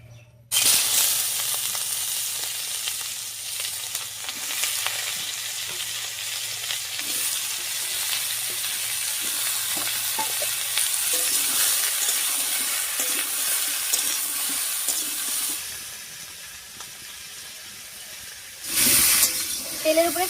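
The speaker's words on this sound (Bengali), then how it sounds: "এবারে এই তেলের উপরে কাঁঠালটা একটু ভেজে নামিয়ে নিচ্ছি।" Jackfruit frying in mustard oil in a wok gives a loud, steady sizzle close to the microphone, with a brief burst of stirring or splashing near the end.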